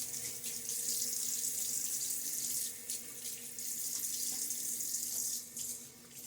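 Bathroom tap running steadily into a sink while rinsing after a wet shave, a continuous close hiss of flowing water with slight splashing changes and no talk.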